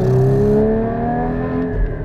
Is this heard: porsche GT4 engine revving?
yes